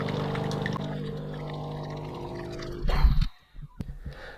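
A Bosch Tassimo My Way 2 coffee machine runs a rinse cycle during descaling, a steady pumping hum with water gurgling, then a louder burst of sputtering and a sudden stop followed by dripping and clicks.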